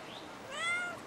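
A cat in the video game Brothers: A Tale of Two Sons gives one short rising-and-falling meow, clear and fairly close, over a soft ambient background.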